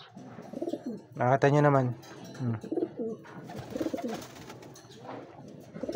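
A male pigeon coos while courting, one loud rolling coo up close followed by softer repeated cooing, with someone speaking briefly over the birds.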